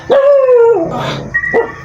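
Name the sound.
dog barking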